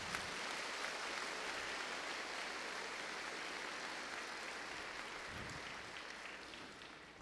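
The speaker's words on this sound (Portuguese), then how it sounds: "Merece uma salva de palmas." Congregation applauding inside a cathedral during a dedication Mass, a steady, distant wash of many hands clapping that fills the reverberant space and slowly fades.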